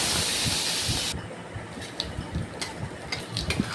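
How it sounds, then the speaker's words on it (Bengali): Fresh pond fish frying in hot oil gives a loud, close hiss that drops suddenly about a second in, then continues as quieter sizzling with scattered spits and crackles. "এইভাবে করে আমি মাছগুলো ভেজে নেব।"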